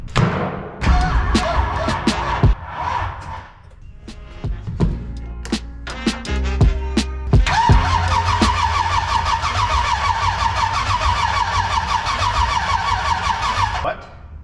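A barn-find Mitsubishi Evo, said to make 1000 horsepower, cranks with a few stuttering bursts and catches, then runs loud and steady at idle close by, its rough exhaust droning on for several seconds.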